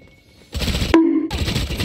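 Video game gunfire in Valorant: a quick automatic burst, then a short gap marked by a metallic ping, then another rapid burst, all loud and close.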